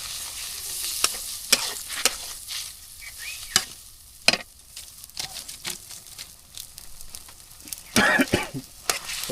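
Spices, bay leaf and salt go into hot oil and are stirred, giving a steady close sizzle broken by sharp scraping and clattering strokes of a spoon against the pan, with no talking.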